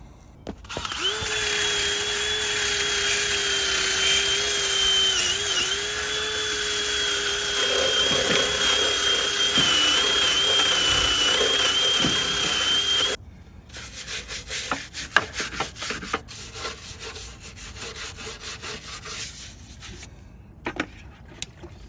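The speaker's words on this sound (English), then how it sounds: "Just going to clean off this with a wire brush a bit more" Rotary wire brush on a power tool cleaning rust off a car body, a steady loud whirring grind with a couple of brief load dips, then it stops and sparse scraping and knocking follow.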